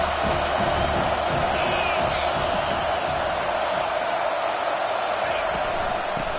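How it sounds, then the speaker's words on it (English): A football stadium crowd roars in a steady, dense wash of cheering that swells slightly, heard under a commentator's ongoing play-by-play talk. "this crowd is turning it up a notch"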